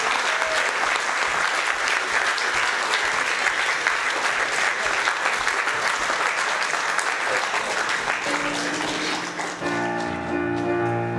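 An audience in a Methodist church at an awards ceremony claps in sustained, dense applause for about nine seconds, loud and close, before it fades out as sustained music tones come in.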